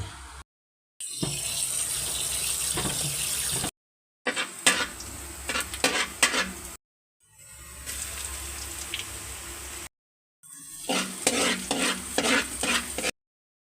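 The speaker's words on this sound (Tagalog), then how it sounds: "Gisa-gisa lang tayo mga tropa" Ingredients for sopas sauté in a pot: loud hissing sizzle in several separate bursts, broken by short silences, with a utensil scraping and clinking against the pot in the later stretches.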